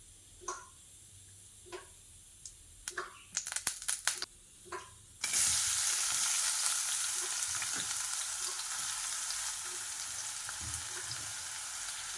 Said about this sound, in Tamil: வெங்காயம் கருவேப்பிலை நல்லா வதங்கணும்